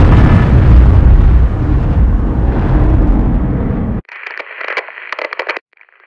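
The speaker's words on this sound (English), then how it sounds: "once everybody's ready for the blast, all you guys have to do is just shout "all clear" back at me, and then I'll know when I can light the fuse" Underground blast in a hard rock mine, a loud sustained broadband roar for about four seconds that cuts off abruptly, followed by fainter crackling, radio-like bursts.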